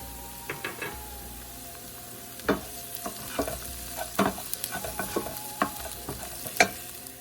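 Ají de gallina mixture with oregano and cumin being stirred in a pot, with repeated close scrapes and knocks of the spoon against the pan over a low sizzle and no speech.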